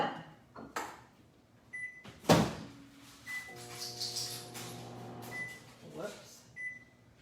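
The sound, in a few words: microwave oven running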